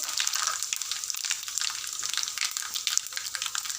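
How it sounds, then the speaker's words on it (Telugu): Mustard seeds, cumin and dried red chillies fry in hot oil for a Telugu broad bean pickle, making a steady, close, bright crackling sizzle throughout with no talking. "ఇప్పుడు అదే ఆయిల్లో ఒక రెండు స్పూన్ల ఆవాలు ఒక స్పూన్ జీలకర్ర రెండు ఎండుమిరపకాయలు"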